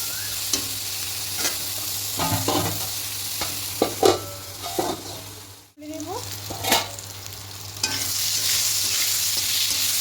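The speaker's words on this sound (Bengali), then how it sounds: "এবার আঁচটা মিডিয়াম করে বেগুনগুলোকে একটু ঢাকা দিয়ে ভেজে দেবো।" Eggplant pieces fry in oil over medium heat for a spicy fish dish, giving a steady broad sizzle with stirring scrapes and clatters; the sizzle drops out briefly near the middle, then returns louder toward the end.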